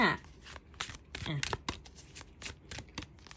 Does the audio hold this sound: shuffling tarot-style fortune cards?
yes